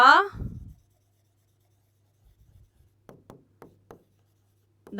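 Chalk or marker writing on a board during a class, heard as a handful of short, separate scratchy strokes in a quiet room after a brief bit of speech.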